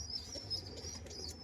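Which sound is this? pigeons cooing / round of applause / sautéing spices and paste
pigeons cooing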